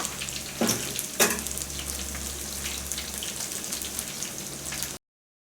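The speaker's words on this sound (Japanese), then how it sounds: "天ぷらを揚げてる間に" Tempura crackles and sizzles in hot oil, a steady close bubbling hiss with a couple of brief louder spatters early on, no voices.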